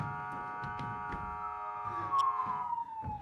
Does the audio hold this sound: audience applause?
no